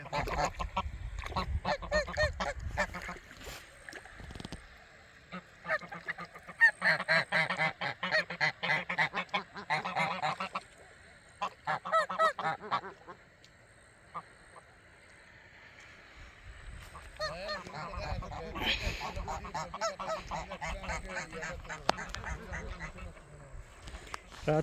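Ducks and geese at a lake give repeated honks and quacks in bursts, fairly near and loud, with quieter gaps and a person talking over parts.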